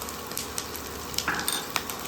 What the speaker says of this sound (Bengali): এবার নাড়াটা দিয়ে দেবো